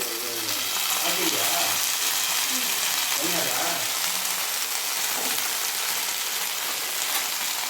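Onions frying in oil for gobi manchurian, giving a loud, continuous, dense sizzle that runs throughout while a voice murmurs faintly underneath.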